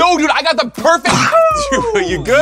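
A single sneeze bursts out amid lively conversation, close and loud, with people talking immediately before and after it.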